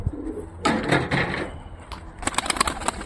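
Pigeons flutter and call close by amid rustling and clattering noises, with short bursts of wing flapping and scuffling toward the end.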